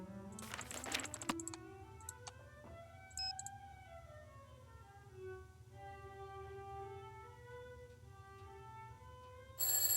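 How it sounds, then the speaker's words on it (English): Electronic melodic phone ringtone in the video game Warnings at Waverly Academy, a clear tonal tune of rising and falling notes, preceded by quick clicking taps and ending with a sudden burst of noise. "There goes my phone."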